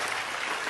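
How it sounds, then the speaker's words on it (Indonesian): Audience applause at a public gathering, a brief wash of steady crowd clapping, moderately loud and unbroken, with no speech over it. "saya ingin Anda tepuk tangan untuk yang menciptakan judul itu"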